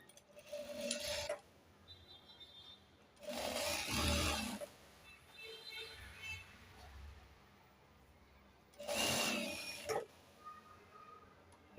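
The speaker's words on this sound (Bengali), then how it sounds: "এসে তারপরে এই মাথা থেকে সেলাই শুরু করবেন" A sewing machine stitches a pajama for a ten-year-old boy in three short, quiet bursts of whirring about a second each, separated by pauses with light rustling and handling of fabric.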